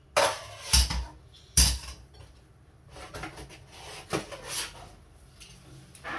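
Spoons and forks being hand-washed in dishwater: a few loud metallic clatters and clinks early on, then softer scattered knocks and rattles of cutlery against dishes.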